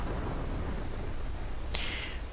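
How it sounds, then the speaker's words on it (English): Steady rain hisses throughout a video game scene, dense and close, with a faint, brief crack near the end that could be distant thunder; no voices. "that's just the rain for you, I guess"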